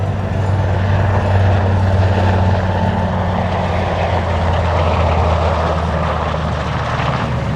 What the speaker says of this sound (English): Here comes our Cyclone, this time from the right, giving us a high-speed pass.